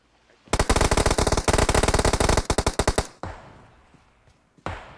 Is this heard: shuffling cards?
no